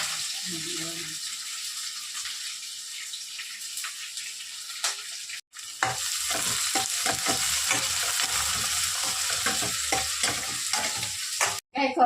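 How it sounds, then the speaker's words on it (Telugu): Onion and curry leaves hit hot oil as tempering for an eggplant curry, with a sudden loud sizzle that keeps crackling steadily, close by, after a quieter stretch of stirring. "సో ఉల్లిపాయన కరివేపాకు వేస్తా"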